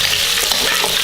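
Pig trotters stir-fried in a hot wok with a handful of ginger slices, giving a loud, dense sizzle with brisk scraping stirs, close up and with no voices.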